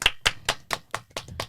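A single person claps slowly and distinctly on a podcast, about eight sharp, close hand claps in an even rhythm, each separated by near-silence.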